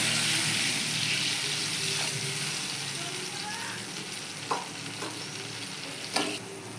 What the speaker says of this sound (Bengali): বেগুনটাকে মশলার সঙ্গে একটু নেড়ে চেড়ে জল দিয়ে দেবো এবার আমি পরিমাণ মতো জল দিচ্ছি